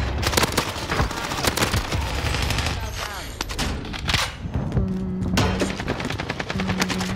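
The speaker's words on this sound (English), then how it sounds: "the AK goes hard" AK rifle gunfire in the video game Warzone on Rebirth Island, close rapid bursts of automatic shots with short pauses, mixed with game effects and a tonal beep.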